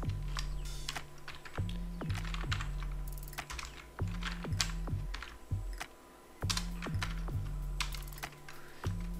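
Someone types text on a computer keyboard at a steady, brisk pace, with clustered key clicks and occasional short pauses, close and clear in a quiet room.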